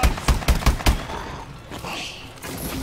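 Gunfire in Call of Duty: Exo Zombies, a rapid burst of five or six sharp, close shots in the first second, followed by quieter game noise and faint voices.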